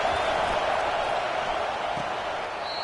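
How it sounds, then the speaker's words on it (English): A packed college football stadium crowd in the game NCAA 25, a steady, dense roar of cheering that holds loud and even throughout with no break. "Listen to this crowd just shaking the girders of this place,"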